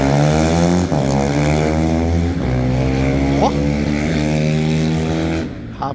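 Motorcycle with a 470cc CB 300-based engine and six-speed gearbox at high speed on a highway, its loud, steady engine drone holding throughout with gear changes and rising revs.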